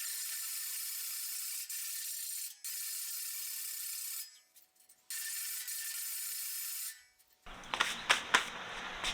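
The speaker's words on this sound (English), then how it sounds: "let's try some files before we pull out the power tools" A hand file rasps against a steel part on a motorcycle lift, sounding as repeated bright scraping strokes separated by short pauses, then a noisier clattering burst near the end.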